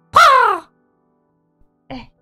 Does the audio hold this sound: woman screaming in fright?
no